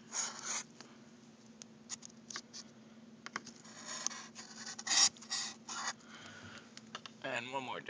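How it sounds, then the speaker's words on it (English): Pencil scratches and brief strokes as marks are drawn on the side of a model railroad scenery profile board, soft intermittent scribbles with rubbing and handling, close and quiet. "on the side of your profile board, draw up where those two pegs are"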